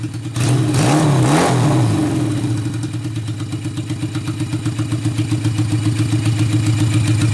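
A vehicle engine is given gas and revs up briefly, rising and falling, then settles into a loud, close, steady idle with a rhythmic pulse.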